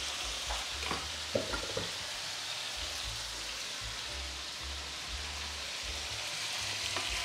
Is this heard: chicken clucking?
no